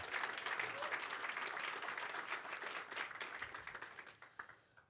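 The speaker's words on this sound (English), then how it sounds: "Can we just have a big round of applause for Christine and Georgie?" Audience applause at a startup accelerator demo day in Australia, a steady, dense round of clapping that fills the room and slowly thins out toward the end, with voices mixed into the crowd.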